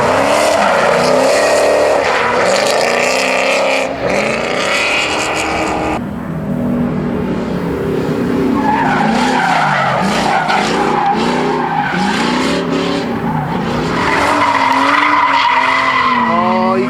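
A Subaru drifting with loud, sustained tire squeal and skidding, engine revving up and down in surging waves close by, almost no talk.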